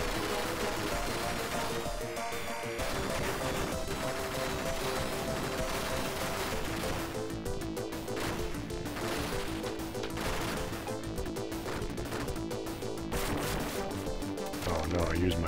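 A smart bomb detonates in Ultracore, a canceled Sega Genesis shooter revived on Xbox Series X, as loud, dense bursts and crashes burst through constant music and effects that stay at full volume for the whole stretch.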